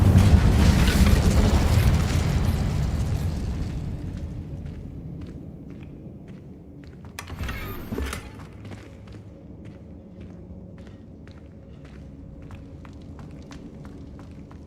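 A fire spell cast in Hogwarts Legacy: a loud rushing, roaring burst opens and slowly fades, then a second sharp flare hits midway, followed by light tapping steps over a low ambient hum.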